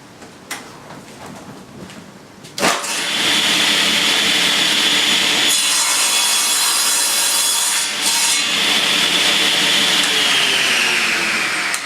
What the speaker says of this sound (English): now I'm just going to trim off the ends so they're the same length, so they're nice and square